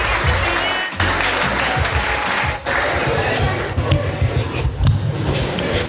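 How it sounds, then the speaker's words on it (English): Audience applause for a poet walking up to the stage at a Rooftop Rhythms poetry night in the UAE, with steady crowd clapping and cheering filling the space. "Everybody clap him up to the stage, Mr. Seb Eubank."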